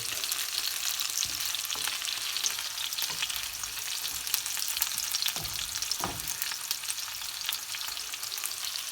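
Broccoli frying in a pan, a steady dense sizzle with occasional stirring scrapes, close and continuous with no talk.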